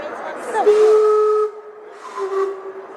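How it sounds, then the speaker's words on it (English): The Gastown steam clock in Vancouver lets out a loud steam whistle, a sustained hissing tone with a shifting pitch and a clear break before a second, softer blast. "And here is the famous Vancouver steam clock."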